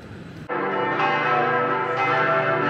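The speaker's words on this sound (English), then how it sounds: "Time for the bells." Church bells ringing in Munich at dinner time, starting abruptly and sustaining a loud, rich wash of overlapping metallic tones with long resonance and no voices.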